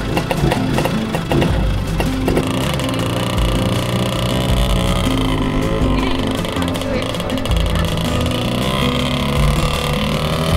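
A vintage Italian Lambretta LI 150 Special scooter from the 1960s rides through Kota Bharu streets, its two-stroke engine buzzing and chugging steadily and loud throughout, with wind rush and a voice talking over it.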